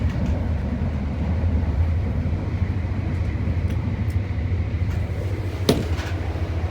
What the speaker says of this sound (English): Oh, that's an A-train.